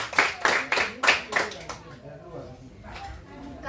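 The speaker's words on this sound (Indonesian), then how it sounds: "tepuk tangan dulu" A classroom group of students claps hands in a quick run of sharp, rhythmic claps that fades into murmuring voices.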